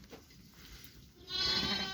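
A lamb's bleat rises partway through, wavering and fairly close against a low background hum.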